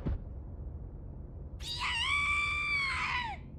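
A high, wavering harmonic scream from the horror video game Corpse Party bursts in after a second and a half of low background rumble, holding loud for nearly two seconds before sliding down and fading.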